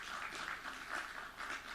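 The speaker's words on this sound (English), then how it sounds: "let's give him a very, very warm round of applause for him" Applause from an audience welcoming a distinguished diplomat at a formal speaking session, a steady, fairly faint wash of clapping filling the room without a break.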